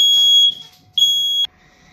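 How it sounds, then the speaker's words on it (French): A smoke alarm set off by burning sage shrills indoors in two loud, piercing, sustained beeps, each roughly half a second long, separated by a brief gap. "mon alarme incendie, elle a sonné"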